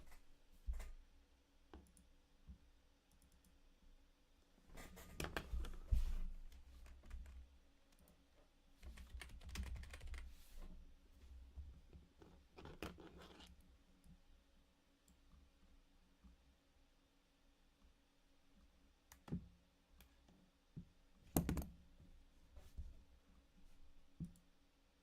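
Quiet computer keyboard typing during coding: scattered bursts of soft, close key clicks, clustered around a few busy stretches and then thinning to sparse isolated taps, with low hum between and no speech.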